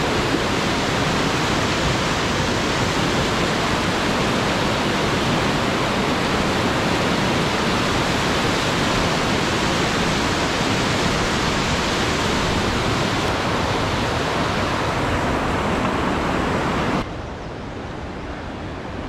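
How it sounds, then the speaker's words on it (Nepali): Kapu river, a mountain stream fed by a lake on a Nepal trek, rushing in a steady loud broadband roar that holds unbroken and close, then drops slightly near the end. "यो खोलाको नाम चाहिँ कपु खोला है"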